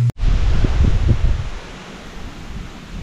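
Strong wind blows outdoors in loud, gusty rushes that buffet the microphone, easing slightly toward the end.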